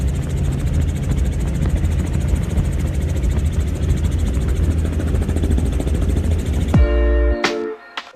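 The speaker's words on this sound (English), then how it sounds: "This helicopter pilot flying in a forest fire." A helicopter flying over a forest fire gives off a loud, steady rotor and engine roar close to the mic that holds throughout, then cuts off abruptly near the end.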